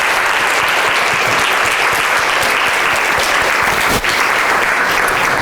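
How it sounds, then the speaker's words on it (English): Loud, close applause from an evening school-community audience, dense clapping filling the room steadily, with a brief thump near the end. "that deserves a big old round of applause"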